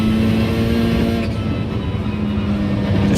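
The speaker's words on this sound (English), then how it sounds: "Did you hear the gears? Did you hear how happy they sounded?" Race car engine cruising in practice at the Red Bull Ring after rain, a loud steady onboard drone with a strong low tone and a brief dip in pitch around a gear change.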